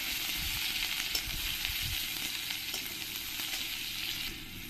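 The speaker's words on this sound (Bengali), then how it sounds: "রসুনটাকে আমি একটু লাল লাল করে ভেজে নেব।" Crushed garlic frying in oil in a pan as part of a Bengali taro-stem and small-fish recipe: a continuous soft, hissing sizzle with faint stirring scrapes, quiet and steady, no voices.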